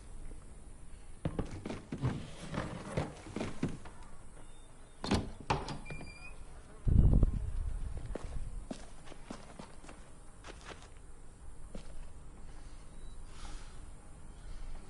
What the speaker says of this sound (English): I'll get the door open.